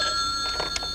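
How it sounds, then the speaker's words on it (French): A telephone rings in a steady electronic tone that holds for the whole moment, fairly clear, with faint background sounds beneath it. "Robert, on a une femme au téléphone qui dit être Barbara Daniels."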